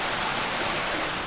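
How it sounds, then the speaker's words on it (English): Relentless heavy rain pours down at 1:30 in the morning during the Lismore flood, a dense, unbroken roar of water that fills the whole moment without a break. "The rain relentless."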